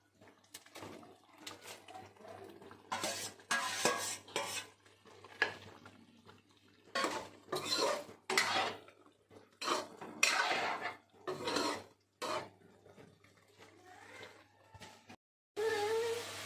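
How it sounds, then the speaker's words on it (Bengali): Fried prawns going into a pan of Bengali chingri malai curry, heard as repeated clattering of utensils against the pan and scraping while stirring, close and moderately loud in irregular bursts, with no talking. "এবার দেখুন আমার চিংড়ি মাছগুলো ভাজা, এবার আমি দিয়ে দিচ্ছি"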